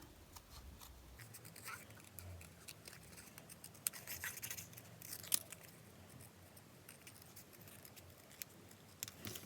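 Scissors snip and scrape through card while cutting out a handmade bird shape for a greeting card, a quiet, irregular run of close crisp cuts and rustles with no speech.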